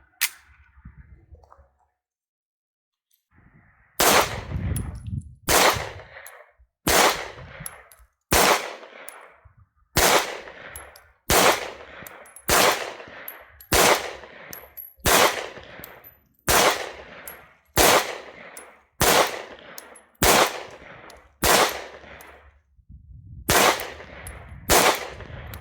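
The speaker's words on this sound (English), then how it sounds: "We're going to be shooting the 124 grain Summit City bullet reloads." FN 509 Tactical pistol firing 124 grain Summit City reloads, about fifteen sharp, loud shots spaced roughly a second and a half apart, each with a short ringing echo, after a brief quiet pause.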